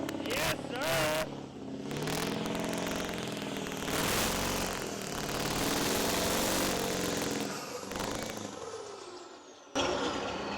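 A Scania truck engine runs roughly and loudly for about nine seconds, a dense, rattly drone with uneven surges, cutting off sharply near the end; a voice briefly speaks early on.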